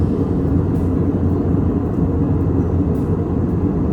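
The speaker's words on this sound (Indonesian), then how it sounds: "suara dari mesinnya itu tidak terlalu kalau di pesawat sebutannya roaring atau kayak mendengung gitu" Steady, loud low-frequency drone of an Airbus jet's engines heard from inside the cabin on a Pelita Air flight, an even hum with no talk over it.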